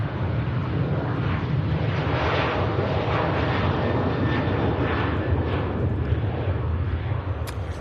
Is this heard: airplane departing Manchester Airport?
yes